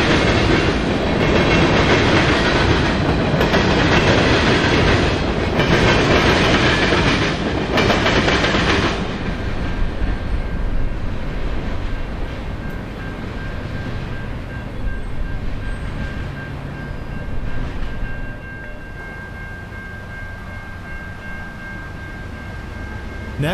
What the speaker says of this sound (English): This northbound is heading toward Wisconsin on the CN Main Line.